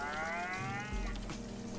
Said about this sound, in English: It actually made a cow noise.